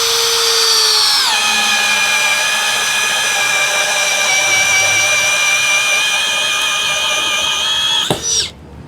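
A Tankmor 21V cordless hammer drill runs steadily at speed 1 with a loud, sustained whine and strong harmonics for about seven seconds, then quickly winds down and stops near the end.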